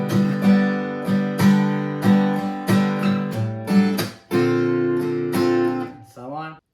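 Guitar plays the verse-return passage of a song: rhythmic plucked and strummed chords repeating in even bursts, close and clear, ending in a short bending run with no voice.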